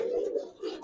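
A Giribaz racer pigeon, silver colored, gives a soft, close coo in two low rolling phrases separated by a brief dip, with no one talking.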